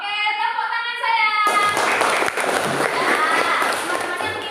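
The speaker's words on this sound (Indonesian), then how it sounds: "Oke, tepuk tangan saya." A class of children claps hands together in a classroom, a burst of many close, overlapping claps that follows a brief stretch of voices, loud and roughly rhythmic until the end.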